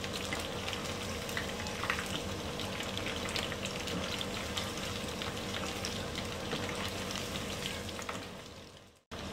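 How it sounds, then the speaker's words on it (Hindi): Spinach chicken pieces fry on a slow flame in oil in a restaurant kitchen wok, giving a steady dense sizzle that holds for about nine seconds before cutting out abruptly at the end. "स्लो फ्लेम पे इनको तीन तीन मिनट तक आगे पीछे करके फ्राई कर देंगे।"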